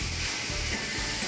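Chicken biryani masala sizzles steadily in a pot while being stirred, in Coimbatore-style dum biryani cooking; a continuous close hiss with soft rhythmic scraping strokes about every half second and no voices.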